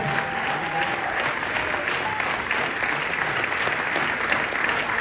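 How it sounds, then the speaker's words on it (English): Sustained audience applause at a live on-stage talk event, a dense steady roar of clapping from a large crowd, loud and continuous throughout without a break. "We gotta give Loren and Marsai a round of applause."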